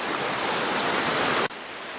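Water rushes at a creek stream crossing, a steady, loud broadband hiss of flowing water that shifts abruptly in tone partway through.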